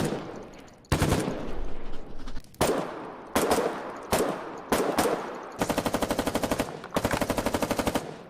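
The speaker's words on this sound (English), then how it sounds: "The sound effect system for the automatic weapons." Automatic weapon fire from the Foxhole war video game, several sharp loud bursts of rapid gunfire with short pauses, ending in two long sustained machine-gun bursts, no talk.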